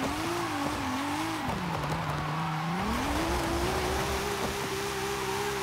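A car drifting sideways in Forza Horizon 5, its engine droning steadily while the pitch dips and rises through a long handbrake slide, with continuous tire squeal layered over it throughout.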